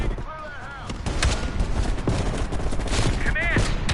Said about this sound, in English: You readied your sniper rifle to assist.